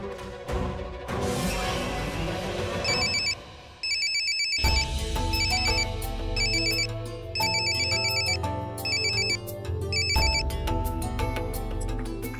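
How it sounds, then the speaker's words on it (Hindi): A telephone ringtone rings again and again without being answered, a bright electronic melody in repeated bursts over background music, loud and close, with no speech. "फोन तो लग गया है साहब,"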